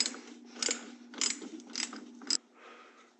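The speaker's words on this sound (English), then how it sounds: "This massive ratchet is way overkill, but it's what I have." A massive hand ratchet works a 9/16 fitting on an M35A2 truck's primary fuel filter, giving four quiet, close bursts of rapid clicking with a fainter mechanical rustle at the end.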